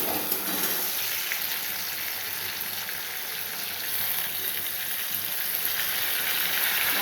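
Onions fried until red-brown sizzle steadily in hot oil with spices and ginger-garlic paste, a dense, even hiss that runs close and loud the whole time with no voices.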